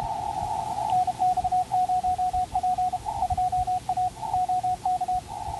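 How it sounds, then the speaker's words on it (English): Morse code (CW) sent by an amateur radio operator at a field day station, a steady stream of rapid beeped dots and dashes in an irregular keyed rhythm over a low hiss of static, with no talking. "on the left is Mike, KB0VXN, doing some CW, Morse code."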